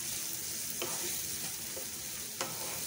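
Chopped onions frying over a slow flame in a pan for a pumpkin and chana dal sabji, a quiet steady sizzle with a few soft scrapes of stirring.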